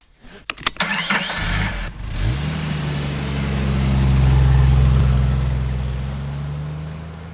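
A Toyota Fortuner's engine cranks in a few sharp bursts, catches, and settles into a loud, close idle that swells briefly as it revs, then holds steady.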